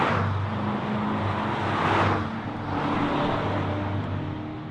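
Chevrolet Corvette C7 Stingray pace car engine rumbling steadily with two swelling throttle blips, a continuous close mechanical drone with no talk.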